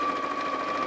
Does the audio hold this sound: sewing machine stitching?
yes